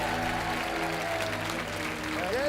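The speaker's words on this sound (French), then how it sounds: "Vous allez partir sous les applaudissements" A studio audience on a French game show applauds departing contestants, a continuous broad patter of clapping blended with show music underneath.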